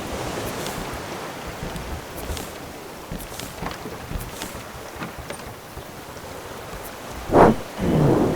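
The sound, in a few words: rain and thunder in the Raft video game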